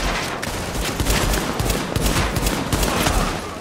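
Sustained automatic gunfire from The Division video game, a dense rapid fusillade of shots rattling continuously for several seconds, loud and close, with no speech over it.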